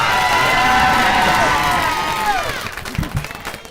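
Comedy club audience of single people clapping and cheering, a loud sustained burst of whoops and applause from the crowd that fades after a few seconds into scattered claps and voices.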